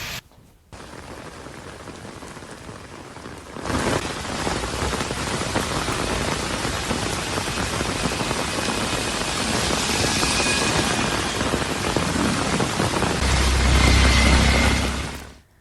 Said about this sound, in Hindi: इसके बाद झमाझम बारिश होने लगी।